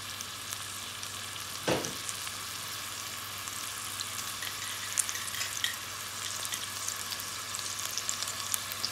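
Ginger paste sizzles in a hot pan while a chicken and bottle gourd curry is started, giving a steady close frying hiss with one sharp spatter or stir early on and small crackles throughout.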